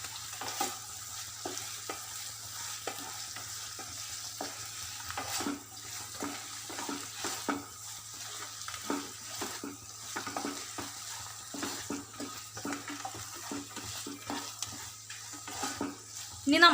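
Dragon chicken sauce with tomato ketchup is stirred in a hot pan, giving a steady soft sizzle broken by frequent scraping and clinking of the spoon against the pan, close up with no talking.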